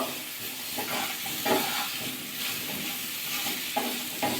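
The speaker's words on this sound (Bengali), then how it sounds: "আর একটু ভাজা করে নেবো কপিটা ভাজা হয়ে গেছে তুলে নেবো" Cauliflower frying in a pan, a dense continuous sizzle with bursts of louder crackle and stirring scrapes, close and fairly loud with no speech.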